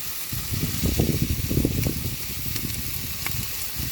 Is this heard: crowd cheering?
no